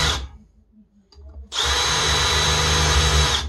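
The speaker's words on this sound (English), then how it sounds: "But I'm using my handy dandy power drill, Milwaukee." A Milwaukee power drill whirs loud and close as it pre-drills a hole in wood for a window shade, running steadily for about two seconds after a short quiet pause.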